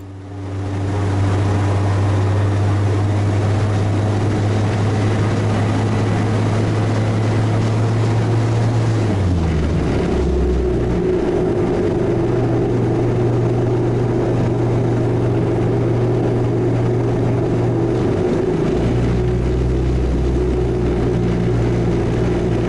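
The Raptor prototype vehicle's engine runs steadily at close range, a droning hum that drops in pitch partway through, then holds at a lower rumble and briefly dips again.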